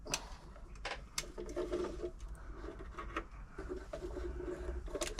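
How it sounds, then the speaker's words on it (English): Singer 507 sewing machine winding a bobbin, a soft mechanical whir with irregular clicks and taps, faint and close, no voices. "Winding that nicely"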